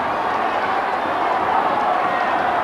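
A large crowd cheers loudly and steadily at a 1989 Mayo Connacht Championship Gaelic football match after Mayo score to level the sides, a dense continuous roar filling the stadium.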